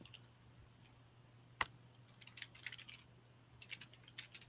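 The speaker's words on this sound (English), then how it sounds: "Okay, so you can hear him typing now." Computer keyboard typing in scattered short bursts of light clicks, one sharper tap standing out, fairly faint over a low steady hum in a quiet room.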